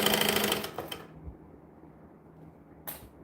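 A sewing machine stitching bags runs in a fast, dense burst for about a second, then stops; a brief second whir follows a moment later.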